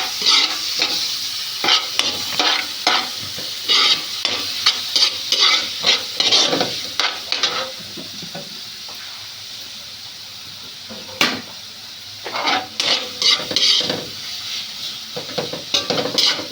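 Tomatoes tossed into a hot frying pan, a steady background sizzle broken by repeated scraping and clinking stirs of a utensil against the pan, close by, with no voices.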